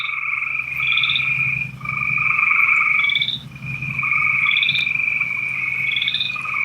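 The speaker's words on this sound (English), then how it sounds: "Boy, the frogs are going crazy tonight," A night swamp chorus of frogs croaking loudly, their rhythmic trilling calls repeating in close succession with a low background hum.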